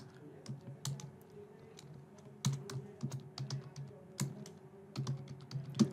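Quick bursts of keystrokes on a computer keyboard as a name is typed in, uneven clusters of crisp clicks with short pauses between, close and clear over a faint steady hum, no talking.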